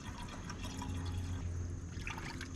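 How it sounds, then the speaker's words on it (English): Purified drinking water is poured into the cooling system of a 1982 Ford Econoline van that sat for ten years, making a steady trickling, gurgling fill with a low background hum and no talking. "Here's top her off with a little Niagara purified drinking water."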